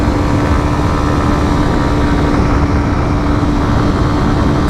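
A 2019 Kawasaki Z125 motorcycle's 125 cc engine held at high revs during a ride, a loud, steady, buzzing drone mixed with rushing wind noise, constant throughout with no talking.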